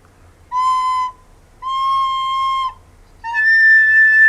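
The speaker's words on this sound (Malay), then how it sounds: "kenapa bila awak tiup recorder bunyi dia pelik?" Three sustained, thin, whistly recorder notes blown with the wrong tone, each held for about a second, separated by short gaps, played alone and fairly loud.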